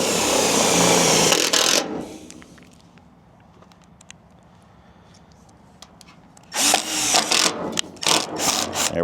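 Loud whirring bursts of a power drill driving self-tapping screws at the start and again near the end, with a quieter stretch of faint rustling and clicks in between.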